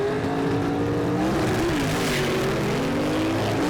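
Gasser drag race cars, a Rambler and the Gray Ghost, accelerate down the strip at a Southeast Gassers event at Shady Side, a loud, sustained engine roar with rising, wavering pitch and no talking.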